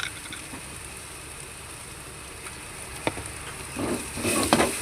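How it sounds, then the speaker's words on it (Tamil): Chilli powder and turmeric powder fry in oil in a pan with a soft, steady sizzle. Near the end there are a few louder stirring scrapes and bursts. "போட்டு நம்ம எண்ணெயில் ஃப்ரை பண்ணிக்கணும்"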